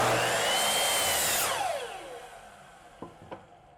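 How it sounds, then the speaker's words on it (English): A miter saw cuts through wood for a sawhorse board, its loud motor whine running steadily and then winding down over about two seconds. Two short knocks of the board follow in the quiet tail. "the second method that you could use is a good old miter saw"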